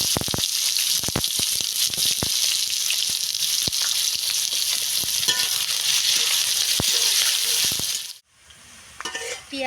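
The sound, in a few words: frying chopped onion with spices in a pan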